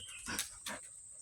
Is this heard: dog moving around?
yes